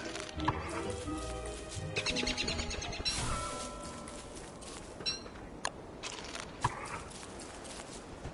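Bird in the video game Don't Starve, with chirps and flutter-like game sounds scattered over busy background music and effects, occasional sharp clicks punctuating the mix.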